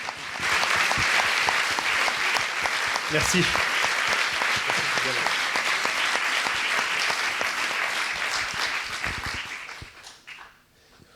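An audience gives long, full applause at an event, a thick steady wash of clapping that holds for several seconds before fading out, with a brief word spoken partway through.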